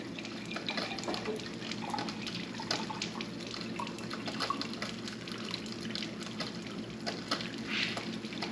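9.5 pH alkaline water from a Kangen machine running into sprouting jars for alfalfa and broccoli seeds, a steady close trickle with small drips and splashes throughout.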